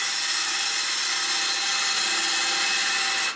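A wood lathe spins a maple burl bowl while a gouge cuts, producing a steady, bright hissing scrape that holds evenly before stopping abruptly.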